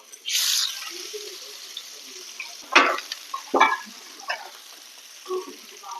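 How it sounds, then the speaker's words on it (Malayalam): Fish dropped into hot oil for a Kerala home-style lunch gives a sharp hissing burst, then a softer steady sizzle with a few clattering knocks and scrapes from the pan. "മീൻ വറക്കാം"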